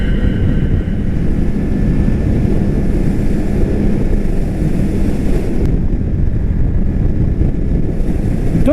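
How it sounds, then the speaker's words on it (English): A helicopter flying overhead makes a steady low rotor roar that fills the air, constant and fairly loud, with wind buffeting the microphone throughout. "Is that a fucking helicopter?"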